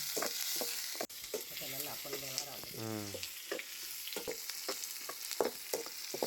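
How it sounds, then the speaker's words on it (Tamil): Onions, green chilies and curry leaves sauté in oil for a green pea gravy: a quiet sizzle with frequent spatula scrapes and a brief squeaky tonal whine partway through. "வெங்காயம் வந்து பார்த்திங்கன்னா நல்லா வதங்கட்டும்"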